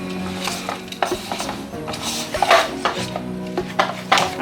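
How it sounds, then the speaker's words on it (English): Cookie dough of peanut butter, banana and oats being mixed in a bowl, heard as uneven scraping and knocking of a utensil against the bowl, close and moderately loud. "I'm just going to mix all that in"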